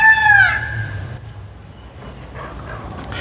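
A peacock gives a loud, shrill call in a Cotonou neighbourhood, one rising wail at the start that fades into quieter outdoor background noise.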